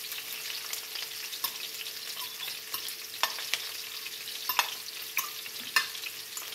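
Yellow onions sauté in oil over moderate heat for a Jamaican ackee and saltfish dish, giving a steady soft sizzle with scattered crackles and a few louder pops and stirring clicks, with no voices.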